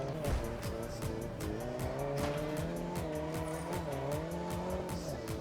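Car cornering in the racing game Test Drive Unlimited Solar Crown, with a steady loud engine drone and layered tire squeal running throughout, a few rhythmic pulses under it and no one talking.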